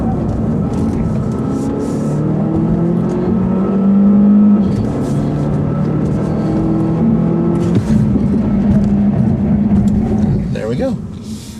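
A 2015 Volvo S60 T6 accelerating hard in a 0-60 mph run, with a loud engine note rising steadily in pitch from inside the cabin and people talking over it throughout.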